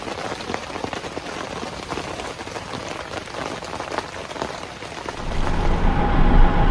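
Steady heavy rain patters and hisses on a surface, loud and continuous, growing slightly louder and deeper toward the end.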